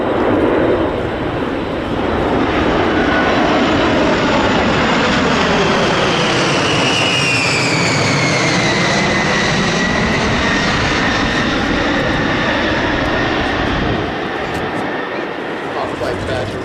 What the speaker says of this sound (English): C-17 in the background.